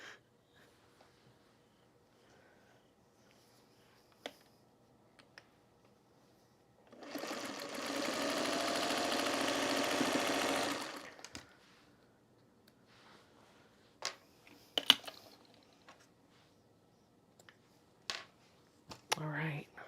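A sewing machine stitches a Halloween quilt block seam in one continuous whirring run of about four seconds, surrounded by quiet stretches with scattered clicks, handling noises and faint breathing.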